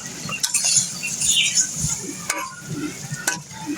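Six prawns sizzle in a pan over a wood-fired stove, a steady crackling hiss broken by sharp clinks and scraping stirs, close and fairly loud with no talk.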